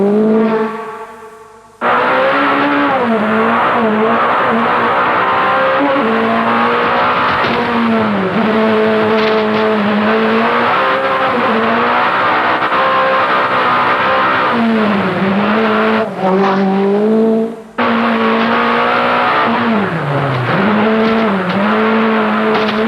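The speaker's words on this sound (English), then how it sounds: "These images of a man pushing his car to the absolute limit during the world-famous Pikes Peak hill climb" A Peugeot rally car driven flat out on the Pikes Peak hill climb, its engine screaming and rising and falling through gear changes, with brief cut-outs and tire squeal, loud and up close.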